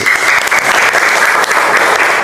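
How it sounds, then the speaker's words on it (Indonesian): A classroom of students claps for classmates who have just presented in an Islamic religious education lesson. The applause is loud, dense and steady, filling the whole stretch with no voices on top. "Kalian semua sekarang berikan tepuk tangan aplaus buat tadi yang maju."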